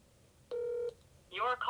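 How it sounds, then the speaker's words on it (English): A phone call being dialed: a single clear keypad tone sounds briefly and alone at low volume, followed by a short burst of speech. "I'm going to call this individual, see if he answers"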